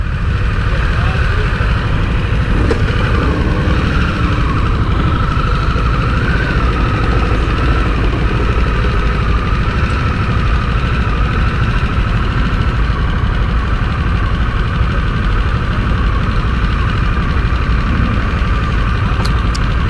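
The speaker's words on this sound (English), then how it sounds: "The Nightster Startup's a little different here." A 2022 Harley-Davidson Nightster with the new Revolution motor idles close by, a steady low rumbling throb that holds evenly the whole time with no revving.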